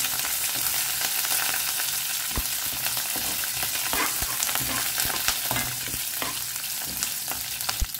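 Chilies, garlic and urad dal fry in a pan. A dense, even sizzle is peppered with frequent sharp crackles and pops, along with light stirring clicks, all close and fairly loud.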